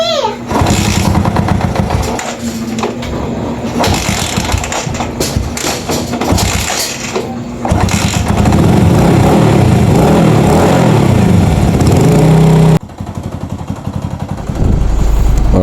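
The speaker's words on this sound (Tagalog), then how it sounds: "So, medyo maingay lang yung makina niya." A Rouser LS135 motorcycle engine with loose compression runs loud and close for the whole stretch, a rough, busy mechanical clatter with thumping pulses and a brief dip near the end, and voices can be heard among it.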